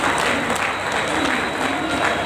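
A large crowd claps steadily and loudly, a dense, continuous wash of applause with no pauses.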